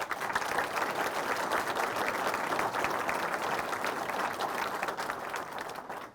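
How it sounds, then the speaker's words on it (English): Sustained audience applause at a Quilts of Valor ceremony at the National Quilt Museum, a dense, even wash of many hands clapping that holds steady, then starts to fade at the very end. "Please give them applause."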